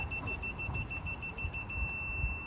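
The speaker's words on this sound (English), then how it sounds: "It's gonna start beeping at me about now." A torque wrench gives a rapid series of high electronic beeps at its set torque that merge into one continuous tone, over a low background rumble, while tightening cylinder head bolts on an LS 5.3 engine.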